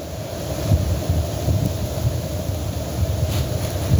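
Wind gusting outdoors beside a wood fire on snowy ground, a steady, rough buffeting rumble that holds throughout with small surges, and no one speaking.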